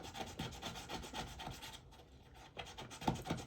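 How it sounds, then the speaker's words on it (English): Steady rhythmic rubbing and rasping on a rope cleat of an RC fishing boat model, close and fairly quiet, with a short pause midway before the strokes resume. "Just rubbing on this rope cleat"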